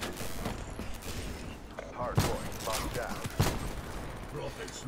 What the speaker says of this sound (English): This has got to be like the best shotgun in COD history.